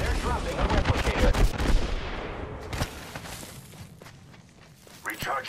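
Rapid automatic gunfire in the battle royale shooter Apex Legends, with dense bursts of close shots in the first seconds that thin to scattered distant reports, and a voice talking over the fighting.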